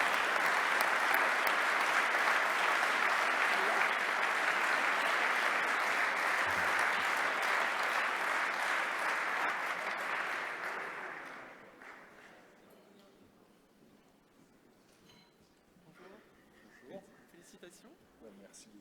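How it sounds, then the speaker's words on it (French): Audience at a cycling awards ceremony in France applauds the mayor, a dense, steady wash of clapping that holds for about eleven seconds, then fades, leaving quiet room noise with scattered faint sounds. "Je vous demande d'applaudir Monsieur le maire, Yves Michel."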